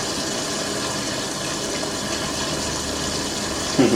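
An Indesit WN1196WG Ecosense washing machine fills with water, a steady broadband rushing flow running evenly throughout, with a brief bump of louder noise at the end.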